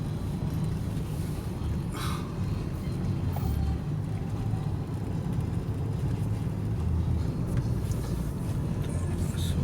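A fast boat at Merak port makes a steady, rumbling engine drone with wind and water noise, continuous and fairly loud, with no clear talking.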